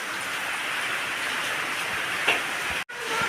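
Heavy typhoon rain from Typhoon Carina pouring steadily on a surface, a loud continuous hiss with a brief sharp dropout near the end.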